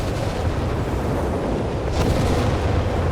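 An artillery barrage pounds the battlefield in Company of Heroes 3, a continuous heavy rumble of overlapping explosions with a louder burst partway through.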